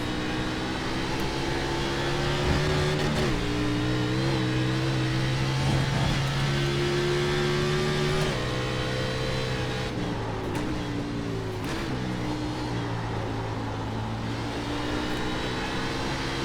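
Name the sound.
NASCAR Xfinity race car driving hard in video game iRacing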